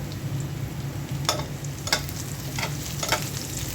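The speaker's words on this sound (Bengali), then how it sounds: "পেঁয়াজের মধ্যে গরম মশলা দিয়ে দিলাম দিয়ে দিচ্ছি পাঁচ ফোড়ন" Onion frying in hot oil with garam masala and panch phoron, a dense close sizzle with several quick scraping stirs over a low background hum.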